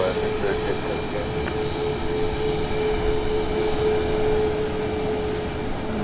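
A Boeing 737 Max 8 airliner taxiing at Dallas Love Field at night produces a steady, loud jet-engine drone with a faint whine on top, continuous from start to finish, with faint voices underneath.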